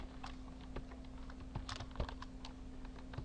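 Soft, close keystrokes on a computer keyboard, an irregular run of light taps and clicks over a faint steady hum, with no one talking.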